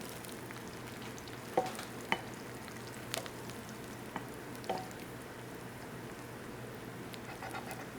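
Food shallow frying in oil in a tilted pan gives a steady, moderate sizzle with a few sharp pops and crackles scattered through, close by and without talk.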